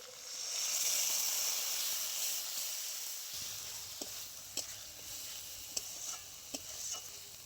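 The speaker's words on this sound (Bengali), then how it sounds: "মশলা দিয়ে খুব ভালো করে আলু কষিয়ে নিয়েছি।" Potatoes being sautéed with turmeric and ground onion-spice paste in a pan give a steady close sizzle, with sharp scraping taps from a stirring spoon in the second half.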